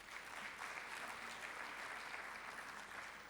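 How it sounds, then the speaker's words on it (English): A debate audience claps for the judges in an even, sustained wash of applause that sounds faint and distant, with no voices over it. "Please give them a round of applause."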